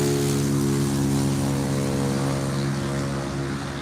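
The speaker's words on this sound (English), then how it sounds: "Got some little scooters, little motor scooters, make a lot of noise" Small, noisy motor scooters drone past on a street, a loud, steady buzzing engine hum with layered tones, holding close throughout and easing slightly at the end.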